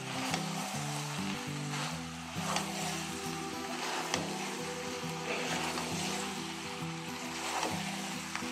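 Chili chicken stir-fried in a pan as its sauce dries down, a loud continuous sizzle with rhythmic scraping and clanking of the spatula, close and without talk.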